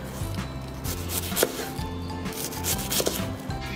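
A kitchen knife chops onion into fairly large pieces on a cutting board, loud and close, in a steady rhythm of repeated strokes while a sauce is prepared for a camping barbecue.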